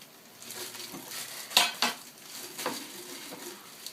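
A knife cuts a pear for a fruit enzyme preparation, giving soft scraping slices and a couple of sharper knocks against a board and bowl, close and moderately quiet in a still kitchen.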